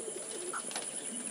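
Pigeons, among them young chicks learning to fly, give soft, faint, brief coos in a quiet setting, low and muffled with no talking.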